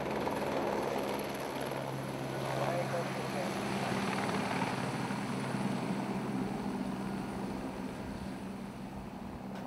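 A crop-spraying helicopter's steady rotor drone over Lavaux vineyards fills the scene, loud and continuous, with no pause or change in intensity.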